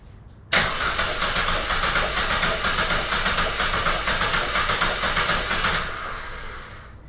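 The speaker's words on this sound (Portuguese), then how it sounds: "agora tá sem a vela, a gente vai dar partida" A car engine is turned over by its starter with the spark plug removed during a compression test. Cranking starts abruptly and runs as a fast, even, rhythmic whirring for about five seconds before tapering off, with no voices.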